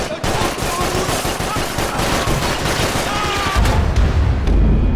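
Dense, sustained gunfire in the video game Max Payne 3, a heavy fusillade of overlapping shots with a deeper booming surge near the end, loud and continuous beneath faint voices.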